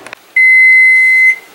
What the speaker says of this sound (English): Time to set the timer.